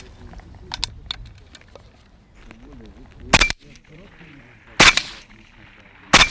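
Three loud, sharp gunshots ring out a second or more apart at a military tactical training exercise, each with a short echoing tail, over quiet outdoor background with faint activity.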